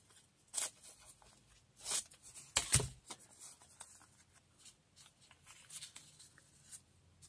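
Scissors snip paper for a floral collage, a few crisp separate cuts spaced out between soft rustling paper and handling noises, close and fairly quiet.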